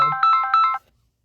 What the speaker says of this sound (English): However, my phone rings.